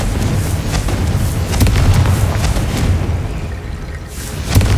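Fiery Confringo spell blasts in the Hogwarts Legacy video game, heavy rumbling booms layered into a continuous loud roar with a sharper burst near the end.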